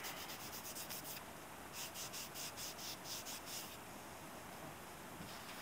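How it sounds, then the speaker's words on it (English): Oil being rubbed onto a knife blade by hand, a faint, soft, even rubbing with a quick series of light strokes in the middle, close by and quiet, with no talking. "we're going to rub some oil on it"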